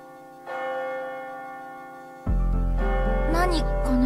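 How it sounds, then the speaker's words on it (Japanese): Church bell tolling at twelve in the video game AI: The Somnium Files - nirvanA Initiative, a loud, sustained ringing tone with layered overtones that enters suddenly midway and swells over soft background music. "何この鐘の音。"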